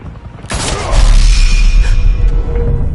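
A loud gunshot-like blast in the video game Batman: The Telltale Series, with a sudden sharp crack and a shattering crash followed by a low rumbling boom and debris settling.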